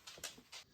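A pet dog just back from a walk gives short, soft whimpers and breathy pants in a few brief bursts, close by and fairly quiet, with no talking.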